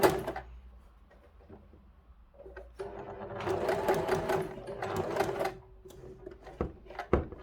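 A sewing machine stitches fabric in short bursts, its rapid mechanical whir starting and stopping between pauses, with a few clicks and handling knocks.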